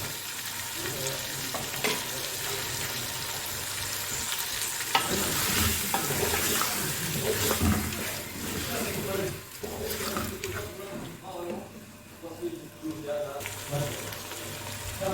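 Chicken pieces frying with salt in a pot for biryani, a steady sizzle with stirring scrapes running throughout, moderately loud, with some speech and kitchen clatter mixed in.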